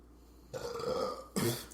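Two burps, close and fairly quiet: a longer, drawn-out belch followed by a short, sharper one.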